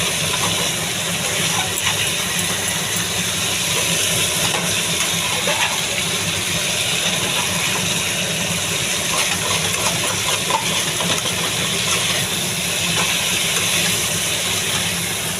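Cauliflower frying in oil for a soybean and cauliflower vegetable curry, a dense continuous sizzle and crackle at steady moderate level throughout, with no voices.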